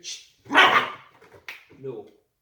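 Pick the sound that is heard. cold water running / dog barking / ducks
dog barking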